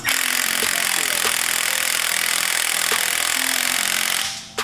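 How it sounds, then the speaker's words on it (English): Small impact wrench on a 17mm nut atop a new coilover shock for a Mk6 VW Golf GTI, a continuous close buzzing whir for about four seconds before cutting off. "We're going to go ahead and try it with an impact."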